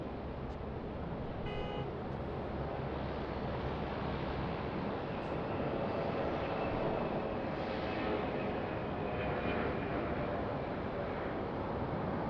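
A QantasLink Boeing 717 takes off from runway 34 right at Sydney Airport, a steady broad jet roar with a faint whine holding at an even, moderately distant level throughout.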